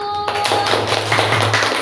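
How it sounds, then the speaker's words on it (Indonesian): Classroom applause for a student group during a teacher-training lesson, a short burst of hand claps and taps from a small class, fairly loud and close, lasting under two seconds with a steady low hum underneath. "Oke, tepuk tangan untuk kelompok 1."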